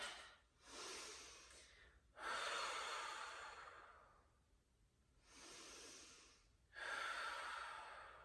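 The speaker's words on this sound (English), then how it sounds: "find a couple of cleansing breaths here." Three slow, deep cleansing breaths during a yoga flow, each a long airy inhale or exhale through the nose and mouth, close and fairly loud, separated by short quiet gaps.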